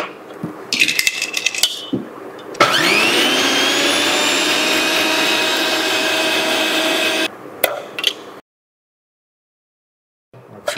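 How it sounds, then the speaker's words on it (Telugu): A mixer grinder blends coriander chutney with whole uncut chillies. Its loud, steady whine runs for about five seconds between clattering handling noises, then cuts out into silence. "చూడండి కొత్తిమీర చట్నీ చేసి చూపిస్తున్నాను."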